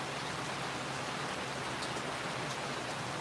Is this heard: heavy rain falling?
yes